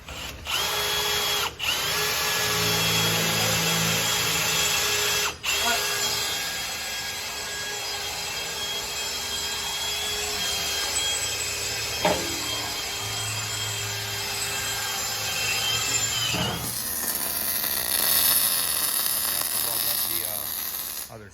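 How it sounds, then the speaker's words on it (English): A power cutting tool grinds steadily through a metal car seat bracket for a long stretch, with a few brief pauses, then shifts to a different rougher tone near the end. "They're cutting the seat bracket out right now"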